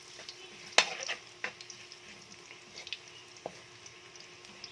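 Chopped garlic and onion fry quietly in a pan for sautéed bitter melon with glass noodles and ground meat, giving a soft steady sizzle with a few sharp spatula taps, fairly faint and with no voices.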